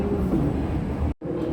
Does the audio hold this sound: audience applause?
no